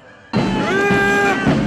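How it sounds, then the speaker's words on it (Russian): A large crowd at a May Day city demonstration in Crimea shouts chants together, a loud, sustained roar of many voices near and filling the scene. "Кричали речевки."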